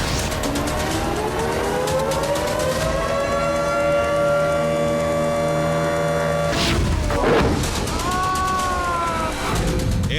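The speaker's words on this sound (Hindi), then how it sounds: "खतरे का सायरन बज रहा था।" An air raid warning siren sounds across Moscow, a long sustained wailing tone that rises and holds loudly before a break, then resumes amid a noisy city din.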